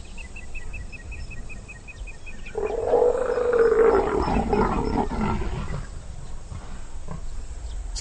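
Leopards in a tree in a loud, aggressive mating display started by the female, with a burst of harsh roaring and snarling that rises sharply mid-clip over a chirping insect background, then fades.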